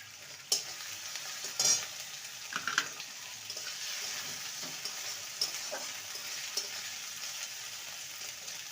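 Chopped tomato fries in a pan, a faint steady sizzle broken by several sharp clinks and scrapes of a spoon stirring against the metal.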